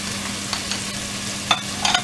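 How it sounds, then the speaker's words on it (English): Ground spices such as garam masala, chili powder and turmeric fry in a pan with a steady soft sizzle, faint scraping stirs and a few light clicks, close and unbroken by talk. "We need to cook these spices as well."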